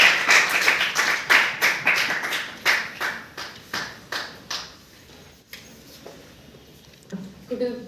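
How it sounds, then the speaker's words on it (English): Applause from an audience, a run of sharp rhythmic claps that starts strong and gradually thins out and fades. "Please give a round of applause to her."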